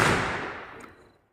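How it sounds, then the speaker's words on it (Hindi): Firecrackers bursting during festival celebrations: a single loud broadband blast at the start that decays over about a second, with faint crackle trailing off and no voices. "और पटाखे आतिशबाजी भी बहुत तरह की होती है, जैसे बहुत अलग अलग तरीके से वो जैसे फूटती है और आवाज़ करती है ना"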